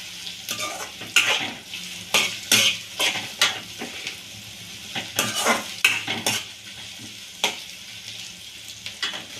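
Green chillies frying in oil in a pan for crab curry, a soft sizzle under repeated sharp clinks and scrapes of a metal spoon stirring against the pan, close by with no voices.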